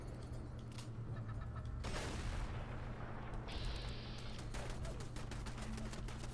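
Repeated blasts from a double-barrel shotgun in the modded video game Fallout 4, sharp close shots scattered across a continuous backdrop of in-game combat noise.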